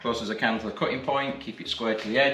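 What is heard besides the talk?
No everyday noise stands out behind the speech.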